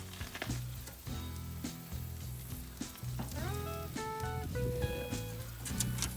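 Meat coated in sauce sizzles and crackles steadily on a grill, a continuous frying hiss with small pops throughout, faint and close, with music playing over it and no speech.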